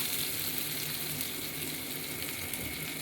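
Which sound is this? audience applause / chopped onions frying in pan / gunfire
chopped onions frying in pan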